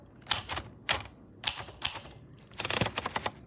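A Sears Malibu typewriter, thought to be a 1970 model, types a short word: three distinct clattering keystroke bursts, close and crisp, followed by a longer run of rapid clacks and a carriage sound, with no talking.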